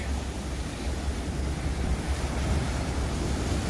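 Water surging and washing among rocks at Kakolem Beach in South Goa, a continuous broad rushing roar with low rumble, steady and fairly close, no talk.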